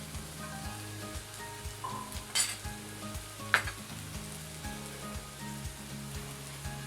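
Prawn malai curry masala fries in a pan over raised gas heat, a faint, steady sizzle with a couple of brief stirring scrapes and clinks, no voices.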